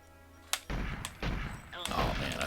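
Shots from a PP7 pistol in GoldenEye 007 come as a sharp crack followed by a few rapid bursts of loud, booming gunfire over about two seconds, with other game sounds in the background.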